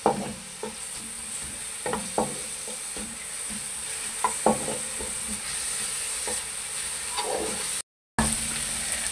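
Garlic fries in oil for masala bhindi with a steady close sizzle, while a spoon scrapes and stirs the pan in scattered clicks and knocks, broken by a brief dropout near the end.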